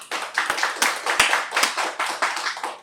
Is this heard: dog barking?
no